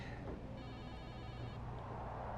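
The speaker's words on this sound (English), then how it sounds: "Is anyone going to answer that phone?" A telephone rings in the WWE 2K26 video game, one steady electronic ring lasting about a second, fairly faint beneath a constant low background hum.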